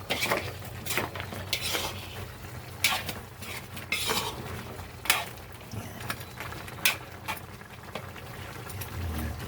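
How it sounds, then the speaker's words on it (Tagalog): Spices being stirred into a cooking pot with a metal utensil, making irregular clinks and scrapes against the pot's sides, close and fairly loud, with some quieter rattling between strokes. "Haluin natin ng maghalo ang ricado"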